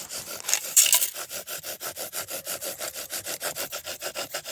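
A wooden bow drill fire-making set worked in a fast, even back-and-forth rhythm, each stroke a close, raspy scrape of spindle against board, about five strokes per second, with no talking.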